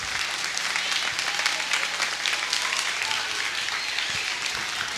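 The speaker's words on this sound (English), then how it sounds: "with a big applause" Steady applause from an audience in a room at a space-themed program, a dense even wash of clapping lasting throughout.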